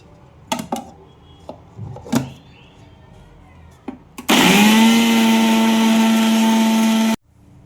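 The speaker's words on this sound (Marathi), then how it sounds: "आता आपण या ठिकाणी पालक दळून घेऊया." Kitchen mixer grinder puréeing spinach: a few knocks and clatters as the jar is set up, then the motor starts with a rising whine and runs loud and steady for about three seconds before stopping abruptly.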